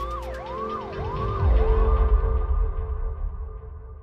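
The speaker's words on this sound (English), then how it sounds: "All she could do was watch as the ambulance sped away with her son." An ambulance siren wails in repeating rising and falling sweeps over road rumble, loud at first and fading as the vehicle speeds away.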